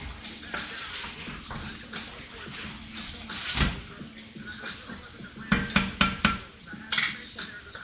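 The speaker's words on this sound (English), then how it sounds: "Let's give this guy another stir." Metal utensil stirring and scraping shallots and butternut squash braising in a pan, with clinks, scrapes and a soft sizzle under a steady kitchen background, louder clattering knocks near the end.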